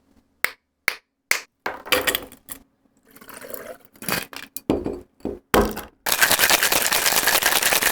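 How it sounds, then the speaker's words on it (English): Clear ice cubes drop one by one into a metal cocktail shaker holding lemon juice and Irish whiskey, several sharp clinks and cracks in a row, then a loud steady rattle of vigorous shaking, close and with no talk. "Now I'm just gonna put in some clear ice in the shaker"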